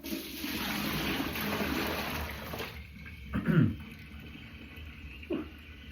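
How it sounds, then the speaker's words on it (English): Water splashes and pours out in a loud rushing stream as it is tipped out of a container for a few seconds, then a couple of smaller splashes and drips follow in a quieter kitchen. "let's tip this water out"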